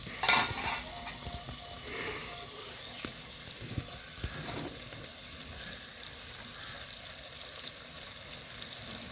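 Green chillies fry in oil in a pan for gongura chutney, a steady soft sizzle with a few faint clinks near the start, no voices.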